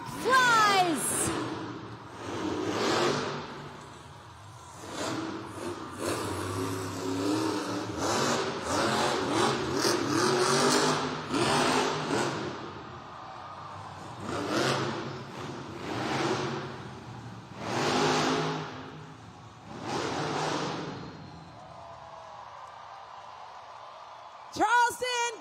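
A Megalodon monster truck at a Monster Jam arena event in North Charleston revs at full throttle in long rising and falling engine surges, mixed with a loud announcer's voice and a roaring crowd.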